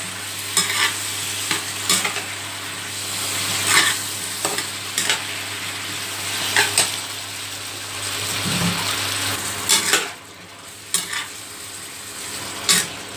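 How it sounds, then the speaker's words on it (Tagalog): Squid with black beans and green pepper sizzling in a frying pan, with a steady hiss under repeated scraping strokes of a utensil stirring the food, close and fairly loud. "Don't forget to stir again."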